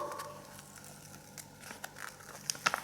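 A paper fish cut-out is peeled slowly off a magazine page. The quiet, close crinkling and faint tearing build into a few sharper crackles near the end.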